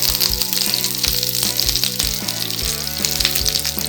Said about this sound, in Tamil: அதில் வரமிளகாயை வறுத்துக்குவோம்.